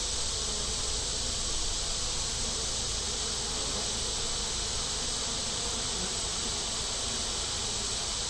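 Honeybees in an opened hive during an inspection, agitated enough to need the smoker, make a dense, steady close-up buzz that runs unbroken throughout.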